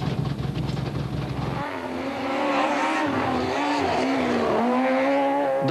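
A Super 1600 rally car at Rally Catalunya 2002 is driven flat out, its engine loud and close, revving and shifting through gears with some tyre noise, no voices.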